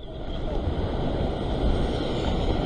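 Strong ocean waves surge against a rocky shoreline used for rock fishing near Sydney, making a loud, continuous, close-up roar of churning surf mixed with wind buffeting.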